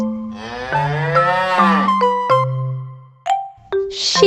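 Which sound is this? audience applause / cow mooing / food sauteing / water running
cow mooing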